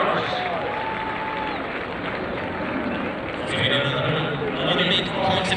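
Audience applause at a Cork City Sports athletics meeting, a broad sustained clapping from a stadium crowd that swells toward the end, with voices mixed in.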